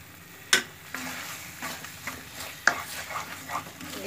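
Ghee sizzling in ginger halwa as it is stirred in a pan, a soft steady fry with scraping strokes and a couple of sharp clinks from a spoon against the pan, close and quiet.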